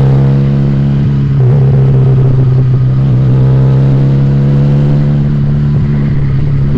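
A Regal Raptor Cruiser 350cc motorcycle engine revs loudly and steadily up close, a deep continuous rumble rising and falling slightly throughout.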